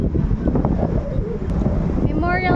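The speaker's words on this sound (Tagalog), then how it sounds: "Mahangin dito eh." Wind buffets a handheld microphone outdoors at the Memorial Temple in Taipei, a loud constant low rumble running throughout, with brief talking mixed in.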